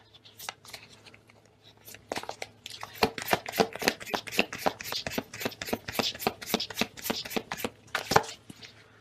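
Tarot cards are shuffled by hand in a quick run of crisp, papery riffles and snaps, close and fairly soft, with brief pauses between bursts.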